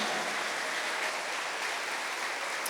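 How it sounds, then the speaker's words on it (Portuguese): An audience applauds Canção Nova at a Catholic gathering: a steady, dense wash of clapping with no individual claps standing out. It holds at an even, fairly soft level throughout, with no talking. "Aplauda a Canção Nova também, porque ela é obra de Deus"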